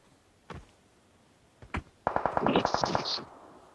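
Gunfire in a video game: two single shots followed by a rapid burst of automatic fire, loud and close, with no talking over it.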